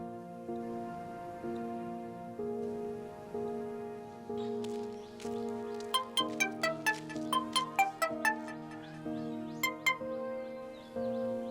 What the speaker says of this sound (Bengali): আচ্ছা মাসুমকে একটা ফোন দেই